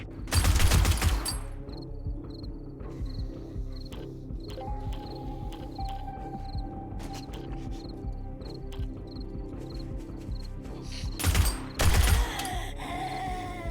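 Gunfire in 7 Days to Die, a burst of rapid shots at the start and another near the end, with a quieter stretch of game ambience, a repeating electronic beep and creature groans between them.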